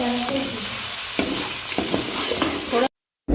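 Onions and whole chillies frying in a pan, with a continuous sizzle and a few sharp stirring scrapes, close and fairly loud, cutting off abruptly near the end.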